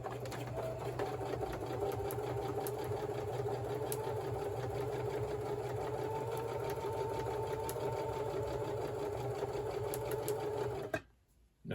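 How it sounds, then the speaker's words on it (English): A sewing machine stitching through vinyl, a fast steady mechanical whir with rapid rhythmic needle clatter running for about eleven seconds before abruptly stopping. "But I've found that sewing through this vinyl, I've never really had much of an issue"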